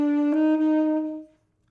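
A saxophone sounds a short rhythmic figure from an all-state honors band solo: one sustained, bright note with a quick re-articulation partway through, ringing alone and close before stopping cleanly.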